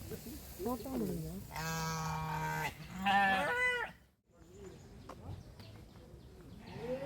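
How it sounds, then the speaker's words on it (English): Goats bleating at a zoo in Pattaya, Thailand, a few drawn-out calls in close succession, fairly near, with people talking and walking around them. "Along with some more goats nearby."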